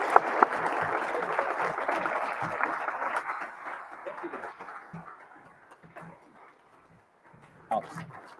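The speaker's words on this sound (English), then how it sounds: "Please give Alex a round of applause." Applause for an award recipient during an online Rotary meeting, a fairly faint patter of clapping that thins out and fades over several seconds, with voices talking around it.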